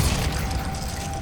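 A Glacius freezing spell cast in Hogwarts Legacy gives a short, low, rumbling burst with a faint steady ringing tone over it, lasting about a second.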